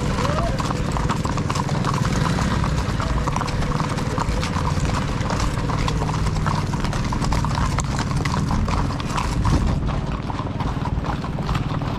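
Horse hooves clip-clop steadily on a hard surface during a group trail ride, with voices talking over the rhythmic, continuous footfalls.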